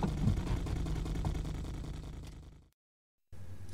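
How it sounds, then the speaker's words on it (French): A low car engine hum, heard from inside the moving car in a radio drama, drones steadily and fairly faintly, then cuts to silence briefly before a rumbling resumes. "Bruit du moteur de la voiture."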